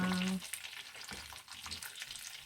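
Chicken frying in oil in a pan, a close, steady sizzle with crackling bursts, opening with a brief tonal beep before the frying takes over.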